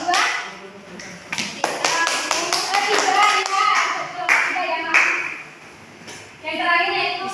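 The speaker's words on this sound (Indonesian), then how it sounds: "Tepuk tangan untuk perwakilan kelompok 2." A class applauds for a student who presented as group 2's representative, with dense sustained clapping from many hands under scattered talk, then fading as voices continue.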